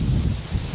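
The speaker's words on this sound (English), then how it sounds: "Here comes another one of those gusts I was talking about." A strong wind gust from Hurricane Ike on the Texas Gulf Coast roars steadily across the whole moment, a loud, broadband rush buffeting close to the microphone with no voices.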